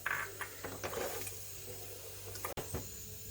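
Water poured into a pot of chana and mutton, a steady close splashing and trickling stream that runs through the whole stretch and cuts off briefly near the end.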